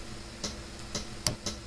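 An emulated BBC Micro 5.25-inch floppy disk drive gives four faint, evenly spaced ticking clicks, each a short seek sound over a quiet background hum.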